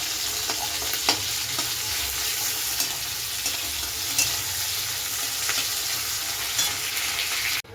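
Onions and tomatoes fry in hot oil, giving a steady loud sizzle with scattered sharp spatters and pops, close up, with occasional stirring and no talking.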